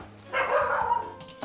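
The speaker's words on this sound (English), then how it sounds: "That's my dog, Winston." Indoor dog barking in a home kitchen while gnocchi is being cooked, a short run of sharp, fairly close barks and yips lasting about a second, with a brief whine at the end.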